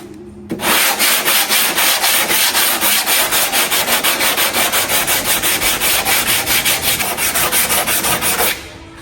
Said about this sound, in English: Right, got my sanding block ready. Let's get this sanded nice and smooth.